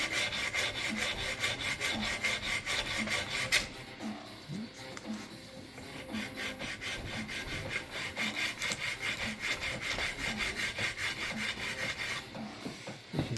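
A knife blade is worked with 120 grit sandpaper, giving a steady back-and-forth rasping rub in even rapid strokes, close and alone, with a short pause partway through.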